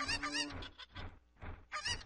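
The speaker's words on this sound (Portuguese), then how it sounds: "Ela já tem os seus cucos de volta." Cucco chickens from the video game Zelda Ocarina of Time squawk in a quick run of five loud, nasal clucking calls, close and alone with no talk.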